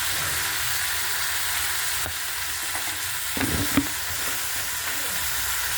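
Tomatoes sauté in a pan for a tomato peanut chutney, giving a steady close sizzle and hiss throughout, with a few soft stirring scrapes and a small clack near the middle and no voices.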